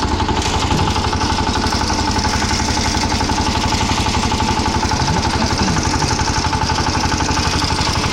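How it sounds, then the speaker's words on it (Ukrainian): Walk-behind tractor engine running on a forest track, a loud, steady close chugging drone that stays constant throughout with no voices. "А мотоблок їде."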